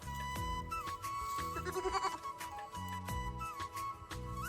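Young goat bleating repeatedly, several wavering, high-pitched calls close by with short pauses between them, no talking.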